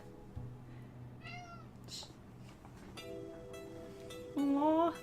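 A cat in the Final Fantasy VII video game meows several times, with short rising calls standing alone over quiet game background sound, ending in a louder, longer meow.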